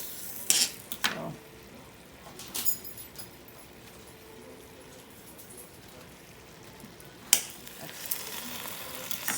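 Homemade tomato sauce warms in a pot on the stove with a low, steady sizzle and bubble, broken by a few clinks of a utensil against the pot.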